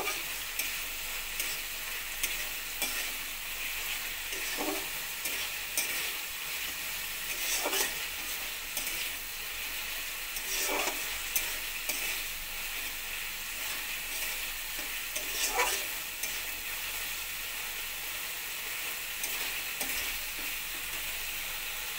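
Ginger-garlic spice paste frying in a pan for a potato, pointed gourd and soya chunk curry, a steady close sizzle broken by periodic scraping stirs of the spoon, with no talk.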